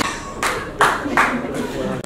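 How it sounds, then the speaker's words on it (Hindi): Audience applause at an award ceremony, a few short bursts of clapping under a voice. "जोरदार तालियां बजा दीजिए।"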